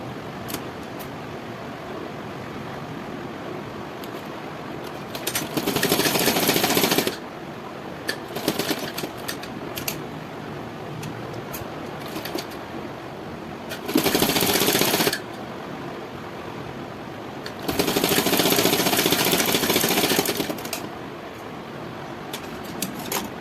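A sewing machine stitches a princess cut blouse in three loud bursts of running, each lasting a few seconds, separated by quieter pauses with faint handling noise.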